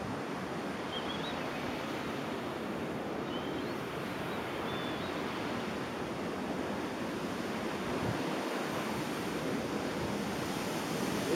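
Water below the Argüís reservoir dam gives a steady, broadband rush, close and continuous for the whole stretch, mixed with some wind buffeting the microphone and with no talking.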